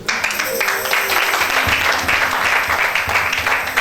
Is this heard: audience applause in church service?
yes